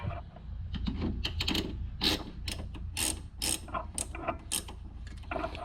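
Ratchet wrench tightening the bottom bolt on the rear brakes of a Nissan Rogue, a close run of irregular clicking bursts with short pauses between strokes over a low background hum.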